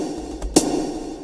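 Short game footstep and jump effects made from a pitched-down 808 hi-hat: two quick, dull ticks close together, the second sharper and louder, over a faint hum.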